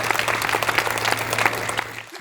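An audience at a Hindi comic poetry gathering in Meerut claps in a dense, steady burst of applause, close and fairly loud, tapering off after about two seconds.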